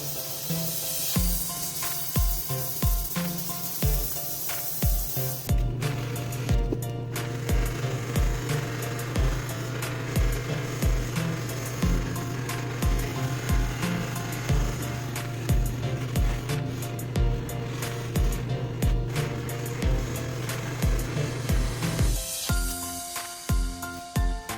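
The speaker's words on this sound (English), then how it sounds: "let's finish shaping the handle and buff it so that it gets all nice and shiny" A wooden santoku knife handle is shaped and buffed, giving repeated rhythmic rasping strokes, then a steady whirring buff with a low motor hum through the middle, all close and without speech.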